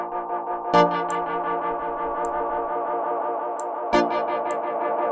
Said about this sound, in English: Wow and flutter. If we increase the intensity a little bit.